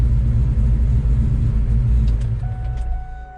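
A Ford Mustang Mach 1 with a T56 manual transmission and McLeod RXT clutch drives along, its low steady rumble filling the cabin before easing slightly toward the end.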